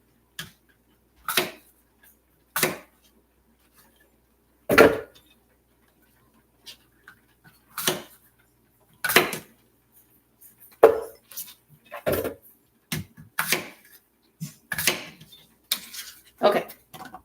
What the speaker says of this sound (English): I suppose I should chop them a little bit.